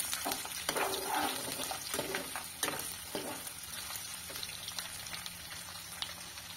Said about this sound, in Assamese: পিঁয়াজটো ভালকৈ ভাজি লৈছোঁ আৰু এইখিনি এতিয়া গল্ডেন ব্ৰাউন হ'বলৈ দিম